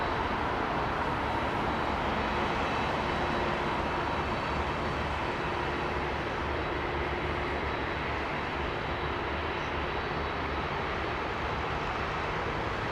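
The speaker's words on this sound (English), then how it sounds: "Oh, listen to this 767 taxiing up here, mate" A Boeing 767 taxiing at London Heathrow makes a steady, broad engine roar with a faint whine, constant and unbroken, heard from outside at a moderate distance with no talk.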